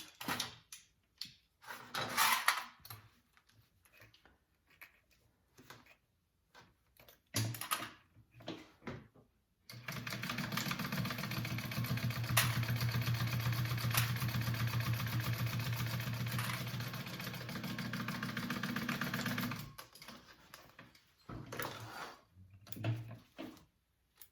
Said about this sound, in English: We're going to sew that on at a 1/2 inch seam allowance.